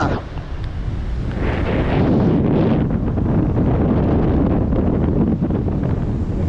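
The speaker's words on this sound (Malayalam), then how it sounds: "ഭയങ്കര കാറ്റാ" Strong wind on a seashore during heavy rain roars steadily across the microphone, a loud continuous rush with surf-like churning from the rough sea underneath and no break throughout.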